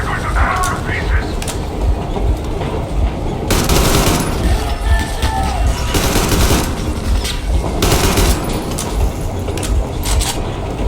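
Sustained automatic gunfire in Metro Exodus, loud and close, with dense bursts of shots over a rumbling backdrop and voices shouting through the firefight.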